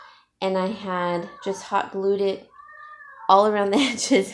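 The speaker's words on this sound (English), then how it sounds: "That's my cat." A house cat meows several times in long, drawn-out, insistent calls, close by, mixed in with someone talking.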